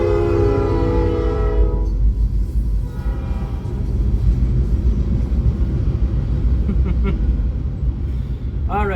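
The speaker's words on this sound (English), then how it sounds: "Incoming train, so we'll pause." Heavy rumble of a passing train with a loud, sustained horn blast at the start, another horn sounding briefly a few seconds later, and the wagons rolling by steadily close to the listener.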